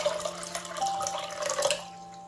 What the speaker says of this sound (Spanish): En un cazo pondremos agua a hervir.